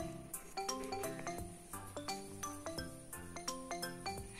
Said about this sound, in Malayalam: അപ്പൊ നമുക്ക് ഫോൺ കോളിൽ കൂടെ വിളിക്കാം.